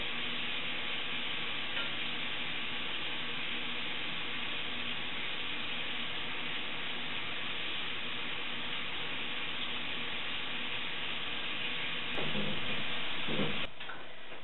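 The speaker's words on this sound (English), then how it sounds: "now I'm going to baste the other side" Maple glazed bacon wrapped chicken basted in a frying pan, a constant close sizzle with light spitting and ticking, briefly louder near the end.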